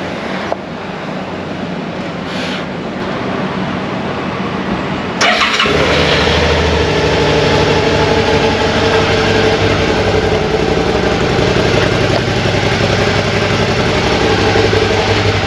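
Honda Activa scooter in a dusty parking lot, a loud starter whir catching into a steady, buzzing idle that runs continuously and close by.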